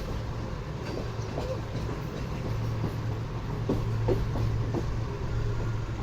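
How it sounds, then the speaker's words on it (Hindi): The Pak Business Express rolling through a track switch from a loop line onto the main platform, a steady low rumble with rhythmic wheel clicks and clanks, heard from aboard the train. "तो ये ट्रेन जो है ये ट्रैक चेंज करके लूप लाइन से मेन प्लेटफॉर्म पर लग रही है"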